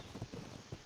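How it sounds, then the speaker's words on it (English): Horse hooves clip-clop in a video game, a few soft, quick steps at moderate distance over a low murmur. "Got a horse still there."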